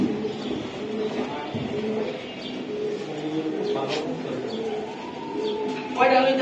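Pigeons coo steadily at a pigeon farm, several birds close by with soft overlapping coos and a few chirps; people talk quietly beneath them.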